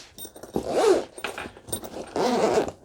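Zipper being drawn along a durable, lockable air pistol carry case for a Reximex Mito S, two distinct close zipping pulls with a short pause between them, no talking.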